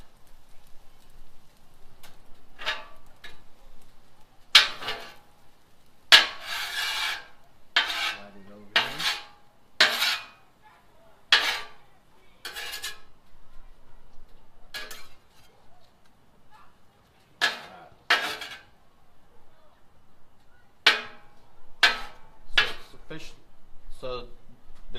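A metal spatula scraping and clacking as it mixes shrimp and broccoli on a Blackstone griddle, sharp irregular scrapes and taps that come close together and then space out, with a person talking between them.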